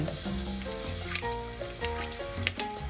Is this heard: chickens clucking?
no